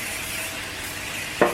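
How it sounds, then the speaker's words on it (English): Cooking spray hisses onto a baking pan in a steady, airy stream, ending with a brief clack. "I like to spray the pan first."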